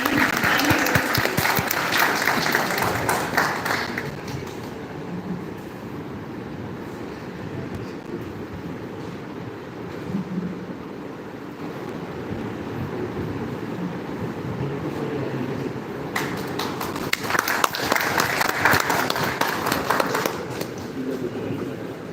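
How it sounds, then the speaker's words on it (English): Applause from an audience, loud at first, fading to a quieter murmur in the middle, then swelling again into strong clapping near the end. "Please give a big round of applause, everyone."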